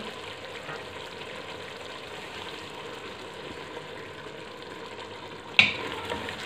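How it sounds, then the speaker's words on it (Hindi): Cooking oil goes into a pan of mutton and tinda gourd for tinday gosht, a soft, steady sizzle and frying hiss with faint stirring, then a sharp clatter near the end followed by the continuing fry. "अब इसमें मैं ऑयल शामिल कर रही हूँ।"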